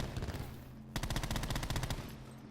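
Rapid automatic gunfire from the Call of Duty Black Ops 4 Alcatraz map, a dense sustained burst of shots starting sharply and fading, set against a background of other game noise with no talk.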